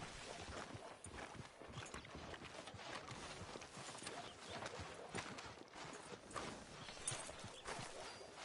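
A horse's hooves clip-clop steadily through a western town, faint, with irregular overlapping hoof strikes and no talk over them.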